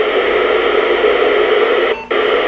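Steady hiss of open-squelch static from a Motorola MaxTrac low-band VHF mobile radio monitoring 39.54 MHz with carrier squelch, continuous and fairly loud with a brief dip near the end, no voices.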